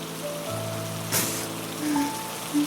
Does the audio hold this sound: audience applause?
no